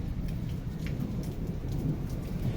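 Low rumbling thunder rolls on steadily behind dense rain during a hailstorm in Zalishchyky, a continuous heavy wash with no talking.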